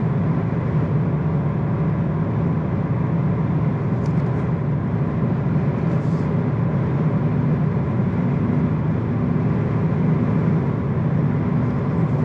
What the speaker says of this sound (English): Yeah, that wind noise, you can definitely hear it.